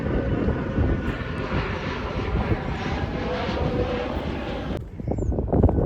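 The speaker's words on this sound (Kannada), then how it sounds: "ಫ್ಲೈಟ್" An airplane drones steadily overhead outdoors at a farm, a loud continuous roar with wind buffeting, briefly dipping before resuming.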